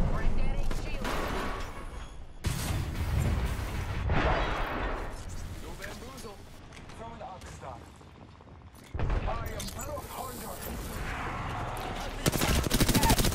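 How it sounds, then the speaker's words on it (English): Dense gunfire fills an Apex Legends battle, with sustained automatic bursts and heavy impacts in overlapping waves, loud and continuous, and voices talking over parts of it. "Good team shots."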